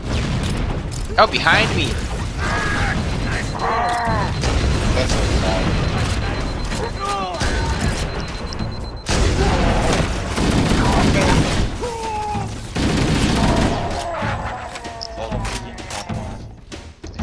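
Loud gunfire in the shooter Evolved Combat: rapid bursts and heavy booming shots crowd together with thuds and mechanical clatter, while a player talks over the barrage.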